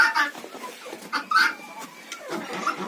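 Hens, including Bantams, clucking in a winter chicken coop, with close, irregular bursts of soft clucks and short calls scattered throughout and no talking.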